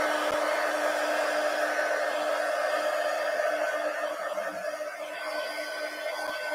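A hair dryer blows on a journal page with a steady, loud whooshing hum and a constant whine, running unbroken and close throughout.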